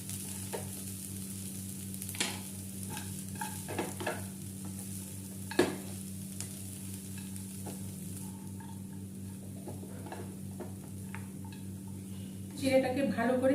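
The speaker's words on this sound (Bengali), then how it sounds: "চিড়েটাকে ভালো করে নেড়ে মিশিয়ে নিলাম" Flattened rice (chira) stirred in a frying pan with a spoon, a soft steady sizzle under occasional scrapes and taps against the pan, louder clatter near the end; no one talks.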